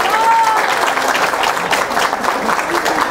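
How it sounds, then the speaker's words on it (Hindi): Loud, continuous applause from an audience at the inauguration of a free basic computer coaching centre in Koloriang, with a brief whistle-like tone near the start and voices faintly under the clapping. "उसी के लिए जोरदार तालियां दीजिएगा।"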